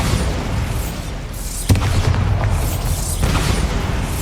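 The Bombarda explosion spell in the Hogwarts Legacy video game lands as a loud, booming blast with a sharp burst at its onset, followed by a rumbling tail and a second, softer boom shortly after.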